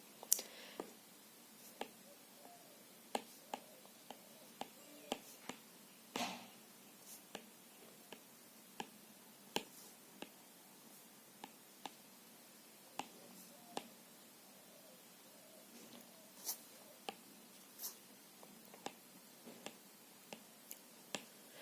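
Marker or chalk tapping and clicking against a board during a physics lesson, a string of short sharp ticks scattered irregularly through the clip at close range, with no talk.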